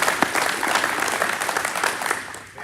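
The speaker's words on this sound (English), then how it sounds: "Let's give everybody a round of applause" A crowd applauds steadily and loudly throughout at a political rally in Harrison supporting a ballot issue, a dense continuous wash of clapping with no break.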